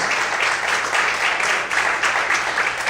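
A church congregation claps together in a sustained burst, the clapping swelling in uneven waves, fairly loud and close.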